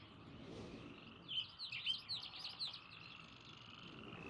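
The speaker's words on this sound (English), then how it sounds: "Now we're hearing the tree, or the birds in the trees more than we are" Game ambience from Myst: a bed of birdsong with a burst of chirps and tweets in the treetops, plus a softer hum that may be frogs, steady and moderately faint with no talk.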